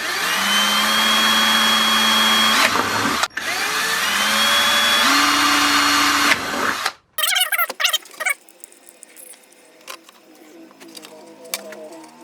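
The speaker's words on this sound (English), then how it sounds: "we'll go ahead and drill the 2 holes." A power drill bores two holes in a bucket, two loud sustained whining runs with rising pitch separated by a short pause, then quieter clattering and scattered clicks as it stops.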